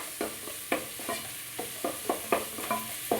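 Carrots sautéing in oil for dal curry while being stirred, with a steady soft sizzle broken by about a dozen sharp, regular scrapes and clacks of the spoon against the pan, close and moderately loud.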